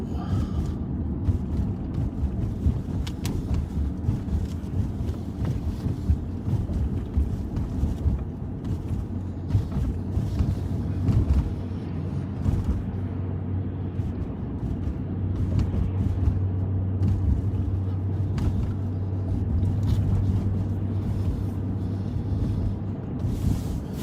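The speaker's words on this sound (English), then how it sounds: "Cars drove." Cars passing along a street, a steady swell and fade of road and engine noise with some wind buffeting the microphone.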